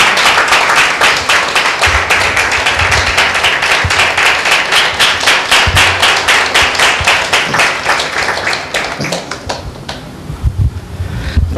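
A church congregation claps in a dense, loud burst of hand applause that runs for several seconds before thinning out into scattered claps.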